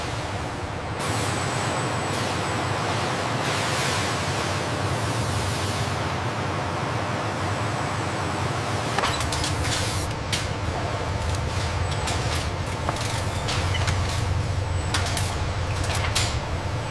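A car shake test rig runs inside the McLaren factory, giving a dense, continuous mechanical rattle and hiss that grows busier partway through, with scattered clanks and knocks and no talking.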